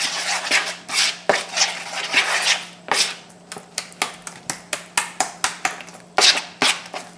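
Chicken pieces being mixed by hand with salt and egg, heard as close, wet squelching and slapping, first in longer smeary strokes and then in a brisk, regular series of short slaps, with no talk.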